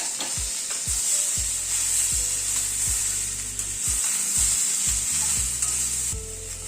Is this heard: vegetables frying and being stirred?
yes